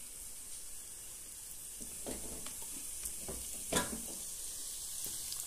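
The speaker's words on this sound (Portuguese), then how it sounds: "vou fritar um franguinho aqui pro almoço" Chicken fries in oil, a steady sizzling hiss broken by a few louder crackles and stirring sounds, close and with no talking.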